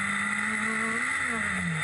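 Radical sports-prototype race engine in the Clubman's Cup at Brands Hatch, a steady loud drone near Graham Hill Bend with engine pitch holding, then rising briefly and easing back as power comes on.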